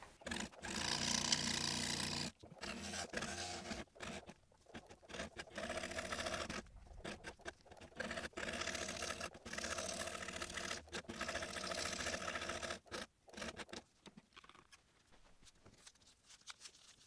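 Scroll saw blade cutting double bevel marquetry veneer, a steady rapid buzzing chatter that runs almost continuously at close range with brief pauses, no voices.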